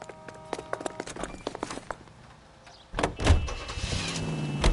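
Car in the video game L.A. Noire starting off: scattered clicks and door-like knocks give way to a louder engine surge and rolling tyre noise near the end, no talk.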